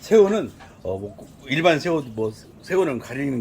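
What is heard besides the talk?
No distinct noise like a dog, phone or traffic.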